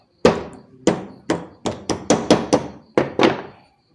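A hammer taps lightly on a fan shaft while clips are fitted during an electric fan axle replacement, giving about ten sharp, separate knocks in an uneven rhythm, close and fairly loud, with no talking.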